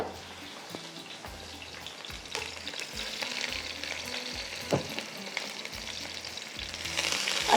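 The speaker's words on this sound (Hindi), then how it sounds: "पुलाव के लिए प्याज हमेशा बहुत अच्छे से ब्राउन करा करें" Onions browning in hot oil make a dense, continuous sizzle with a rice spoon scraping and stirring through them in repeated strokes, growing slightly louder toward the end.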